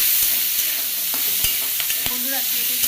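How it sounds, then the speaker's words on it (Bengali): Chopped onions fry in a pan with a steady close sizzle, punctuated by a few sharp clicks and spoon or spatula scrapes, with no talking. "কেটে কেটে এই যে ভাজা বসিয়ে দিয়েছি,"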